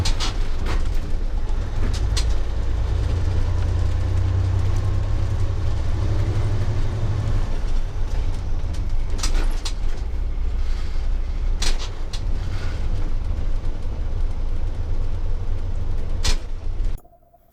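Heavy truck with a 10-speed manual transmission, engine droning loud and steady with deep rumble as gears are shifted, brief higher clunks and revs punctuating the run before it cuts off at the end.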